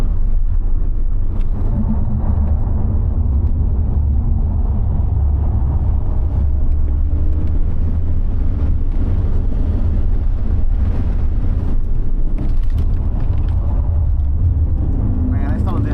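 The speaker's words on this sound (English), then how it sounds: "Let's take the car for a lap and see some real data." A car taking a lap on a back road. A steady engine and road rumble continues with some wind buffeting, and voices come and go over the drone.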